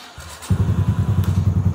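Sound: Yamaha YBR125 motorcycle engine starting

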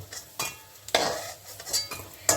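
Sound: lifting fried lentil fritters (bora) out of the pan

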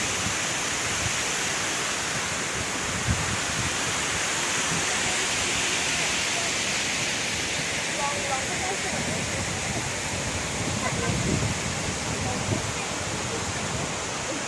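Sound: Kuang Si waterfall flowing, Luang Prabang, Laos

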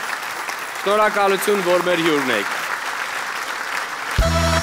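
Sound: studio audience applause

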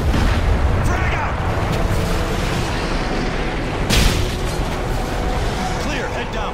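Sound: frag grenade explosion in video game Modern Warfare 3

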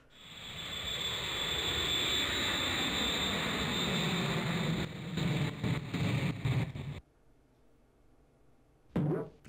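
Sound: plane crash in a video game

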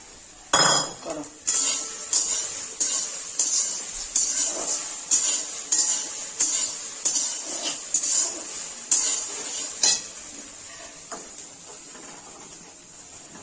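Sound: stirring payesh (rice pudding) in a pot

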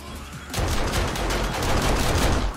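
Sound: automatic turrets firing in 7 Days to Die video game

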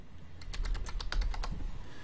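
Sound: typing on a computer keyboard

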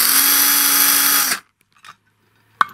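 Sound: drilling a small hole through antenna disc

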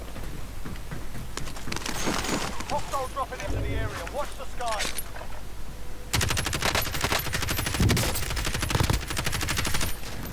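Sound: gunfire in video game Call of Duty Warzone

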